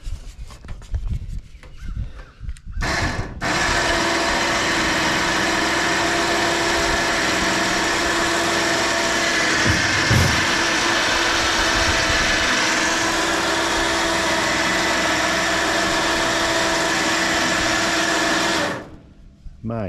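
A small winch mounted on a utility trailer runs under load, giving a steady, loud mechanical whirring drone for about fifteen seconds before cutting off, with brief knocks at the start.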